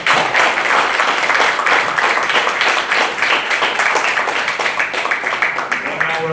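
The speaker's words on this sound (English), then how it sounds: "Let us give them another big round of applause." Dense, continuous clapping from the gathered audience fills a 4WD ambulance vehicle handover ceremony, loud and close, holding steady for several seconds.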